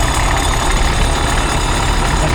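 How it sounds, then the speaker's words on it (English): A Ferguson TE20 diesel tractor engine idles steadily at a tractor festival, a dense continuous low rumble and knock that stays loud and even throughout, with no talking over it. "There's a Ferguson TE20 diesel"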